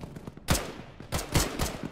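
Gunfire in an ArmA military simulation played with ShackTac: a handful of sharp, separate shots ringing out close by, spaced irregularly across two seconds with short echoing tails.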